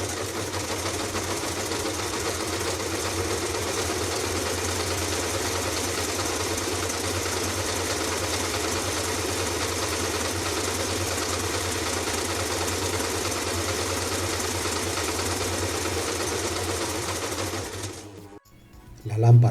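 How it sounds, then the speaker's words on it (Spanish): The motor of an ALFA 520 sewing machine running at a steady speed, a continuous close hum and whir with a low drone that holds level throughout, then cuts out near the end, followed by a brief thump. "al actuar sobre el regulador el motor debe empezar a funcionar"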